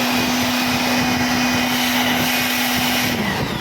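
Air blower cleaning dust from a Dell OptiPlex slim PC, giving a loud, steady whooshing roar with a constant motor whine that drops slightly in pitch near the end, with no talk.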